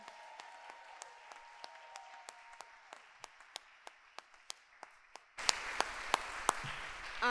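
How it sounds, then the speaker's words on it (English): Audience applause for the awardees at a university arts achievement awards ceremony, a sustained wash of clapping with sharp individual claps standing out, swelling louder toward the end. "Can we give one more round of applause to all our awardees for tonight?"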